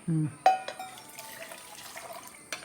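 Liquid is poured into a magic color-changing cup in a short, close splash and trickle, with a few faint clinks and light handling sounds.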